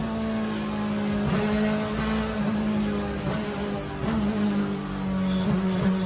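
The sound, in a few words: BMW E46 M3 P65 V8 engine revving to 9,500 RPM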